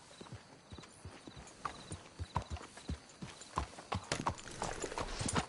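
Horse hooves clip-clopping at a walk in the video game Red Dead Redemption 2, irregular close thuds of several hooves that grow busier and louder toward the end.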